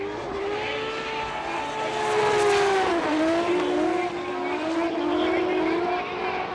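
Drift cars on the throttle at Fuji International Speedway in Formula Drift Japan competition roar loudly, their engine pitch sweeping down and rising again with tire squeal, while a commentator speaks over the noise.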